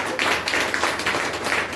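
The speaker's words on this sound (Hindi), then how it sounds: "आइए परमेश्वर के लिए जोरदार ताली" A church congregation claps loudly and continuously, many hands overlapping into a thick, steady patter that carries on without a break from start to end.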